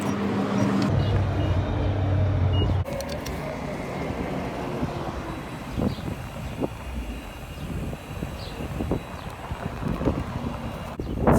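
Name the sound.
wind blowing outdoors on a windy day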